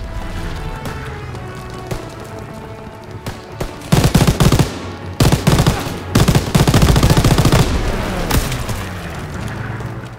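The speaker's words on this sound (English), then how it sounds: "Almost out of ammo for this MG, but it has served us pretty well here" Machine gun fire in Call of Duty WW2, loud sustained rapid bursts broken by short pauses, over a continuous low battlefield rumble with distant booms.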